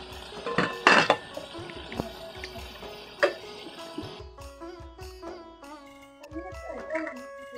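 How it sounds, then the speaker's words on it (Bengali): A lid comes off a pot of mola fish and radish curry with a bright metallic clatter near the start, then a few softer clinks of cookware in a quiet kitchen. "ঢাকনাটাকে উঠিয়ে নিচ্ছি।"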